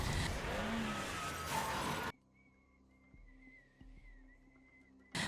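A car in a film is struck and crashes off the road under a bridge, with loud roaring noise and skidding that cut abruptly to quiet with a thin whine and a few soft thuds.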